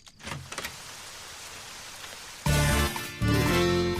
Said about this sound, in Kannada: ಹೊರಗಡೆ ಸಿಕ್ಕಾಪಟ್ಟೆ ಮಳೆ ಬರ್ತಾ ಇದೆ